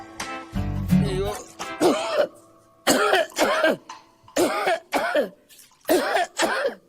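A person coughing, a rough burst of several close coughs followed by repeated short throaty hacks in a rhythmic series, with a voice speaking briefly at the start.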